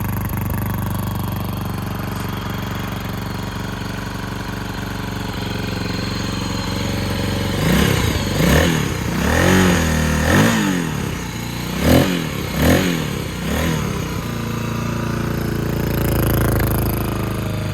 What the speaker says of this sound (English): the bike runs great